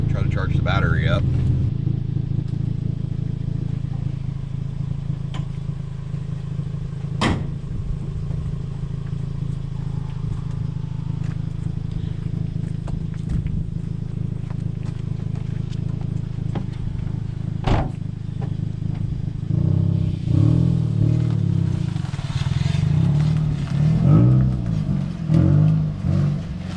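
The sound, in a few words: Toyota Yaris engine started and running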